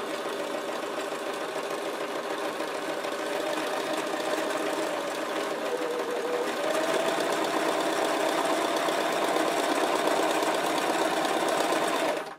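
A sewing machine stitches thin knit fabric in a continuous, close, even whirring hum that rises slightly in pitch partway through, with no talking.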